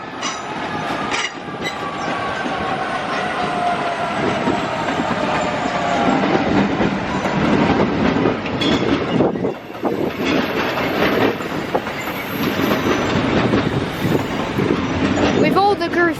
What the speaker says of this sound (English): 350 116 coming out as it is working a service from distant Foundry Lane to